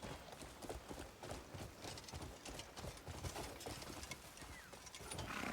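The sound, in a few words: horse galloping in the video game Crimson Desert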